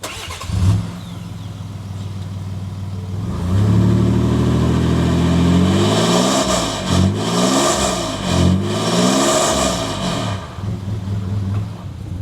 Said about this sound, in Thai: ก็เป็นเสียงของท่อที่แต่งนะครับ